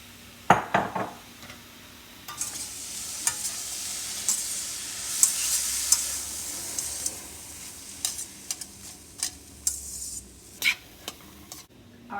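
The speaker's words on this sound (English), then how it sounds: "now I'm going to put in 4 cups of the cauliflower rice" Cauliflower rice goes into a pan of aromatics and sizzles quietly while a utensil stirs it, with bursts of scraping and clinking against the pan and no voices.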